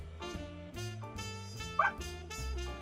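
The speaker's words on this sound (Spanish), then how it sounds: "Disculpen a mi perrita, es una chihuahuita muy ladradora." A small chihuahua gives a single sharp, high yip partway through, short and fairly close, over steady background music.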